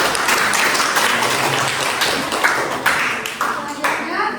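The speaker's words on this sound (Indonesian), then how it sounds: "Mari kita berikan aplaus kepada selanjutnya" Classroom applause at a madrasah tsanawiyah teaching practice, a dense broadband wash of many hands clapping steadily throughout, fairly loud and close, with voices murmuring underneath.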